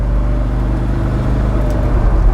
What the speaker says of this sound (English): The engine sound is just massive.